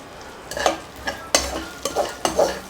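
Rice sevai with curry leaves is stirred as it fries in a pan, giving several scraping, sizzling strokes at uneven intervals over a soft background crackle.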